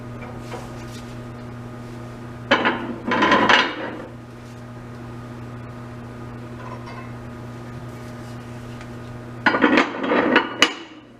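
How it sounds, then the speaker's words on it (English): Steel weight plates lifted off load hangers during a beam displacement test, giving two short bursts of metallic clanks and knocks, near and fairly loud, separated by a quiet stretch with a steady background hum. "So I remove another plate from each hanger."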